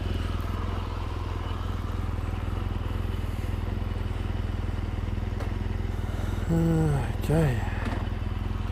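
A BMW R1200GSA motorcycle fitted with a 21-inch front wheel runs with a steady, loud engine drone throughout, with a brief voice near the end over the motor.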